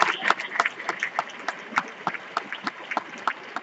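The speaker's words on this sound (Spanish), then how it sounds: "los aplausos que vienen del público son fuertes" An audience claps at a tribute concert honoring a municipal band musician's fifty years in Estepa. The clapping is sparse and uneven, with separate sharp claps standing out over a thin background.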